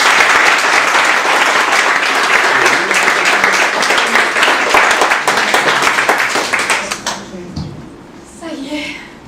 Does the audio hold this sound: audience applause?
yes